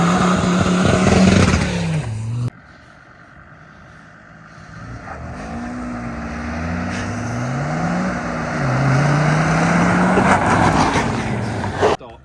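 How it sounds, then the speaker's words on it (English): Land Rover Defender engines roar during a drag race, a close vehicle revving hard then fading as another engine climbs through rising gear changes, with brief voices near the start. "We then decided it was time for a little bit of drag racing."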